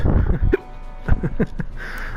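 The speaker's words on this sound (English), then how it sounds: "I think I've got the damn hiccups" Sharp little hiccups break in near the microphone, several jerky catches spaced irregularly among brief bursts of talking, with a low hum in the background.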